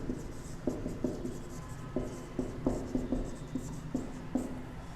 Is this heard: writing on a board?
yes